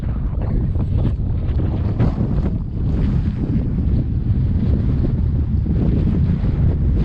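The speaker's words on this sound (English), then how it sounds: "It's a little windy." Loud, constant wind buffeting the microphone, a heavy low roar with gusty rumbling that never lets up.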